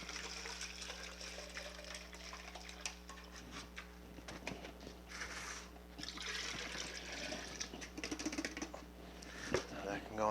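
Water pours and trickles steadily into a jug, quiet and close, with faint clinks and a low steady hum in the background, while draining coolant from a VW Golf Mk3.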